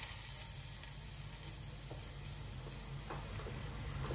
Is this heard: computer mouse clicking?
no